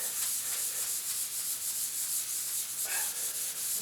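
The scouring side of a sponge scrubs hardened tile grout residue off a tiled surface, a continuous close rasping rub in steady back-and-forth strokes, with no talk.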